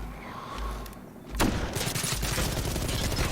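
Gunfire in the multiplayer first-person shooter Ballistic Overkill, a sharp close shot followed by a steady stream of loud rapid firing over game ambience, with no talking.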